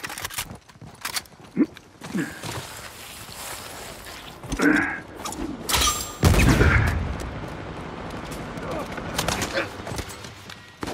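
Gunfire in Uncharted: The Lost Legacy, with scattered shots and booms over roughly eleven seconds amid footsteps and movement noise, and a burst of louder blasts near the middle, all heard close.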